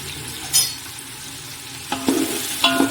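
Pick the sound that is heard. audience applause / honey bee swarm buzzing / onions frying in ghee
onions frying in ghee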